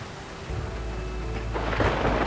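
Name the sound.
thunder clap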